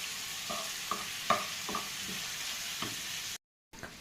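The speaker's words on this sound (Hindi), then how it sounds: "तो ये चिकन को मैं पनीरी में डाल के इसे कुक करूँ" Chicken cooking in a pan for a sandwich filling, a steady close sizzle with a few distinct stirring clatters at irregular intervals, then a brief cut to silence before the sizzle returns.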